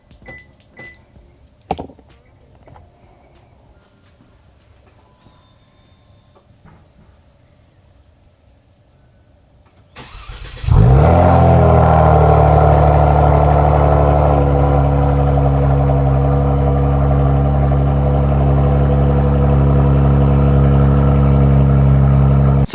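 A Kia Stinger engine starts by remote start around the ten-second mark after near silence, then settles into a steady, loud idle that runs unbroken to the end.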